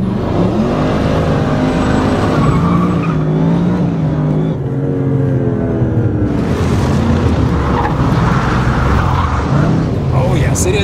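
Mercedes-Benz car with stability control off, accelerating hard on a damp airfield surface at Tempelhof, Berlin: a loud close engine roar climbing through gears, with tyre scrabble and people talking over it.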